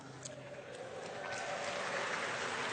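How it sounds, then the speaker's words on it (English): Audience applause at a live debate between two speakers, a broad steady wash of clapping that builds slightly and fills the room, with no talk over it. "Hold your applause, hold your applause."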